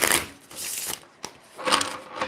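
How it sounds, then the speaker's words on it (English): Tarot cards riffle in a bridge shuffle, two quick papery bursts of flicking cards separated by a soft tap and a short pause, close and fairly quiet. "Oh, these cards shuffle so nicely. I love doing the bridge shuffle."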